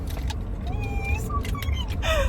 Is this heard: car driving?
yes